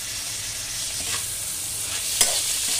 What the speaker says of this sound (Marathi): ते छान असं परतून घेणार आहोत आपण.